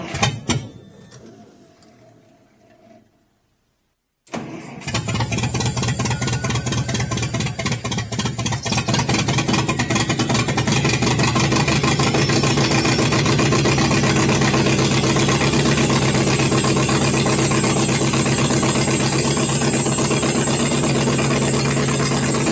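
An Allis Chalmers engine on a LeRoi 125 CFM air compressor, not running on all cylinders because of a fuel pump fault, starts up after a short quiet stretch and then runs loud and close with a rough, uneven drone.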